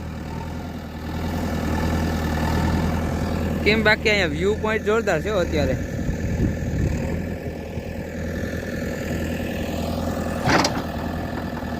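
A JCB excavator working at a village pond keeps its engine running, a steady low diesel rumble that carries on beneath someone talking in Gujarati throughout.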